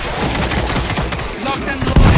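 Rapid gunfire rattles in World War Z, dense automatic bursts and shots layered with game noise, ending in a louder heavy blast.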